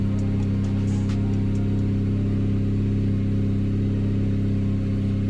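A car engine idles steadily and close by after being started, a smooth continuous hum with no talking over it, during an ANCEL AD530 diagnostic scan.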